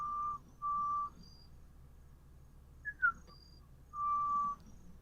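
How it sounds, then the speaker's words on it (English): A person whistles faintly and at a distance in a few short, steady-pitched notes, with a brief rising chirp midway, over a low background hum. "He's giving us a little whistling."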